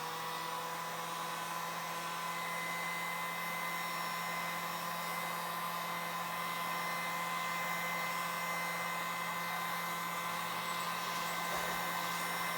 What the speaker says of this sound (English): take my heat gun and lightly go over it on a low heat, just so that it adheres real good.